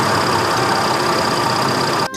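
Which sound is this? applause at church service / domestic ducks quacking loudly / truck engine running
truck engine running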